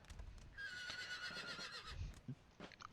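A horse neighs in the Napoleon Total War strategy game, a single drawn-out whinny over battlefield noise with clip-clopping hooves and faint thuds, moderately quiet with no talk.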